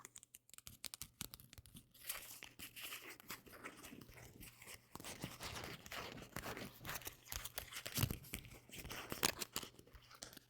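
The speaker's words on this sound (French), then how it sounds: "C'est agréable le son du petit papier." Close, crisp crinkling and rustling of paper in irregular bursts, quiet and near, with no talking.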